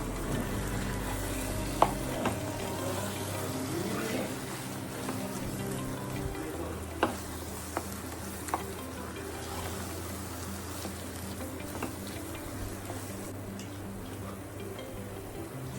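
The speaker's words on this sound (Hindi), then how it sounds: "अब मैं इसको अच्छे से इस मसाले के साथ मिक्स करूँगी और इसकी अच्छे से भुनाई करूँगी अच्छे से।" Mashed vegetables, mostly carrots, being stirred with spices and roasted in a pressure cooker, giving a steady soft sizzle with scraping stirs and a few small clinks, with no talk.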